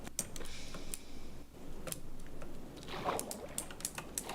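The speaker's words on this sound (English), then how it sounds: "I know you can hear my keyboard" Computer keyboard keys clatter in quick irregular runs during a game session, close and fairly quiet, with brief pauses between bursts of clicking.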